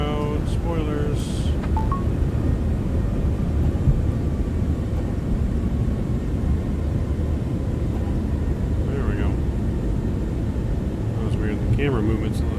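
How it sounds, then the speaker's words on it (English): A jet airliner's thrust reversers deploying on landing in Microsoft Flight Simulator 2024 give a loud, steady broadband roar that holds for the whole stretch, with a voice talking briefly over it. "There we go. Reversers are out."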